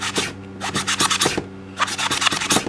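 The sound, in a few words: magic eraser scrubbing dirt off a sketchbook cover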